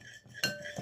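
A spoon stirring slime glue in a container gives a quick metallic clink and scrape, short and close, standing alone.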